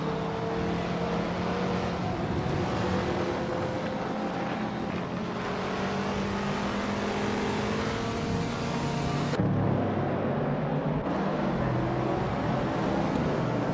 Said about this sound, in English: Scrooge Champ is driving a vintage Dodge Challenger from 1970.